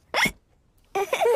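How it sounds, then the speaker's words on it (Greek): A cartoon child hiccups after gulping juice too fast: a short, sharp hiccup burst, a brief pause, then a longer voiced hiccuping sound, close and clear with no other noise. "Ο Τζόρτζ ήπιε το χυμό του πολύ γρήγορα και τώρα έχει λόξιγκα."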